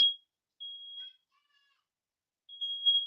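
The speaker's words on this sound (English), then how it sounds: "the smoke detector here in my house. My wife is cooking, so sometimes it goes off." Sharp, high-pitched electronic beeps from a home smoke alarm set off by cooking sound in separate bursts, loud and fairly close, with silence between them.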